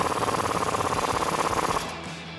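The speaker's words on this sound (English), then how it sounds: "Then we can tighten it up with a 17mm socket and wrench." A 17mm socket and wrench tightens a shock bolt on a 2005-2021 Toyota Tacoma, a rapid, even ratcheting buzz that is loud and close, running steadily for almost two seconds before cutting off.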